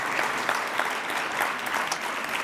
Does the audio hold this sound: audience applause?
yes